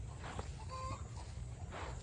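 A backyard hen named Ginger making a few soft, short chirping clucks while eating, faint and close amid quiet outdoor background and light rustling.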